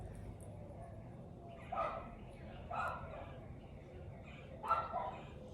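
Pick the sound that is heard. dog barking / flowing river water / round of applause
dog barking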